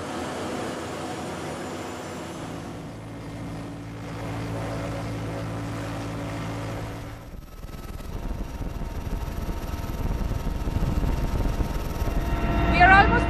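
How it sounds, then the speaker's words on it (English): An Air Force relief helicopter's steady engine and rotor drone fills the cabin about 3,000 meters above ground over Kedarnath, loud and continuous, rising toward the end. "inside the Air Force helicopter"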